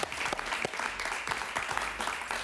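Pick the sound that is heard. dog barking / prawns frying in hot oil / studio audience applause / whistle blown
studio audience applause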